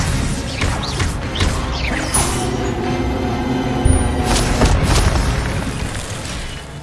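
A spell cast in the Hogwarts Legacy video game, heard as a loud, dense magical blast with booming, crashing bursts and crackling energy. The roar sustains for several seconds, with sharper impacts near the middle and end.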